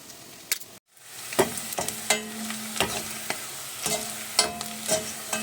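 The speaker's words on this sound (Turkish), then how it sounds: "Şimdi kızarttığımız patateslerimiz." Potato peels sizzling and frying in hot oil, with repeated stirring clatters and scrapes throughout.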